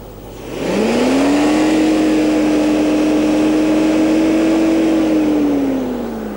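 A 1990 Lexus LS 400 engine climbs quickly to a steady high-pitched 6,000 RPM rev, holds there for several seconds, then eases back down, loud and close.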